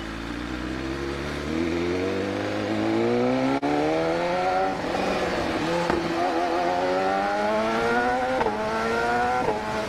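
A BMW S1000RR motorcycle engine revving hard as it accelerates, its pitch climbing steadily through the gears, loud and close, heard alone without talk.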